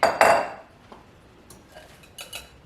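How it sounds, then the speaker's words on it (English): Chopped veggies and onion being mixed into egg and sausage in a bowl, a couple of sharp utensil clinks against the dish followed by softer scraping and tapping, close and fairly quiet. "And now I'm just going to mix my veggies and my onion in with the egg and the sausage."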